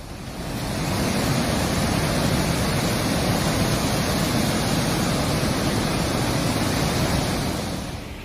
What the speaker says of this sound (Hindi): इसी बारिश के कारण मशहूर अजंता की गुफाओं का झरना पूरी तरह से उफान पर आ गया।